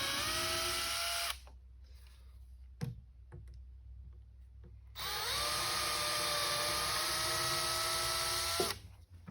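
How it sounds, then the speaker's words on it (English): Power drill boring a small pilot hole through an offset bit into a table top, two loud whining bursts of drilling separated by a quiet pause with a faint knock. "I'm going to drill a small pilot hole."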